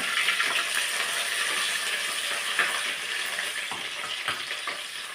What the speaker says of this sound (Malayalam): കടുക് ഇട്ട് പൊട്ടി കഴിയുമ്പോൾ ആദ്യം ഇഞ്ചിയും പച്ചമുളകും ഇഞ്ചിയും വെളുത്തുള്ളി ആദ്യം ഇടുക